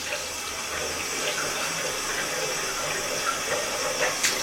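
Water running steadily from a tap into a sink during ablution, a continuous close hiss and splash with faint small splashes of rinsing, no speech.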